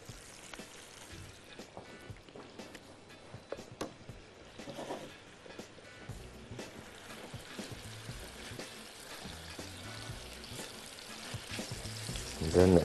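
Ground kofta meat with vegetables frying in a hot pan, a steady crackling sizzle with scattered pops and stirring scrapes, fairly quiet and close throughout, with a louder clatter at the very end and no speech.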